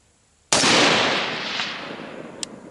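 A single loud, close AR-15 rifle shot cracks out sharply, and its echo rolls away and fades over the next two seconds, with a faint click near the end.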